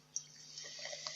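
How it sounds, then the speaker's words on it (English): A drink is poured, giving a quiet, steady liquid trickle with a couple of faint drip-like splashes, close by and continuous through the short moment. "I am pouring a drink here"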